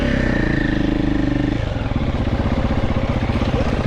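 A 2026 Triumph TF450C motorcycle engine revs loudly and close on a track, with a steady throbbing drone that shifts pitch and rhythm partway through as the throttle changes.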